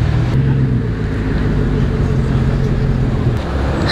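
A Hummer rolls slowly through a gate into a shopping mall, its engine giving a loud, steady, close rumble with road noise throughout.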